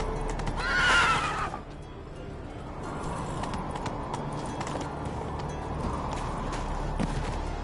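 Roach, a horse in the Witcher 3 video game, lets out a loud close whinny, followed by soft hoof clip-clops and light movement under a low ambient game background.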